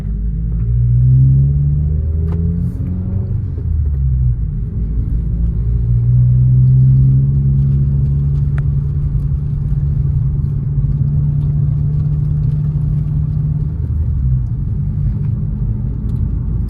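A 2023 Subaru WRX exhaust with aftermarket Remark axle-back mufflers rumbles deep and loud from inside the cabin, swelling as the engine revs and then holding a steady drone while cruising.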